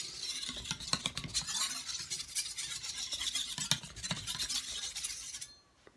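A knife blade scraping over a Naniwa 600 grit Japanese waterstone in steady repeated strokes, a close, gritty rasp with light clicks, fairly quiet and heard on its own before stopping.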